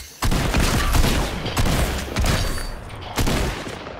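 Sustained gunfire in a Fortnite match, dense rapid volleys with sharp shot peaks and booming reports, loud and continuous across the whole stretch with almost no pause.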